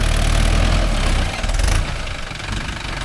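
A Mahindra Yuvo Tech Plus 585 4WD shuttle-gear tractor working with a nine-tine cultivator rumbles loud and close as a heavy, steady diesel drone that dips slightly partway through.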